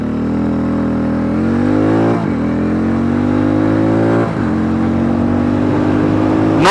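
A Hero Mavrick 440 motorcycle held in third gear, its engine note climbing steadily in pitch as it revs hard, dipping briefly twice and then climbing again toward the rev limiter, loud and close with no talk.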